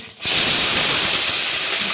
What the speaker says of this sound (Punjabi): ਇੱਧਰ ਮੇਥੀ ਨੂੰ ਲਾ ਦਿੰਦੇ ਆ ਤੜਕਾ ਆਪਾਂ